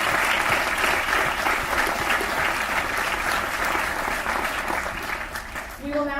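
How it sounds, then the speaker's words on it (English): A theater audience gives a full round of applause before intermission, dense, loud clapping sustained throughout with crowd voices mixed in, tapering slightly at the end. "Give them another round of applause."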